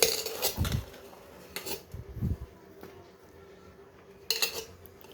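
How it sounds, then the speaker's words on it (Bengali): A vegetable puffed rice mixture is poured from a metal pan onto a plate, with a few clattering metallic knocks and scrapes in short bursts, close by, with quiet gaps between. "এটা প্লেটে আমি ঢেলে নেব।"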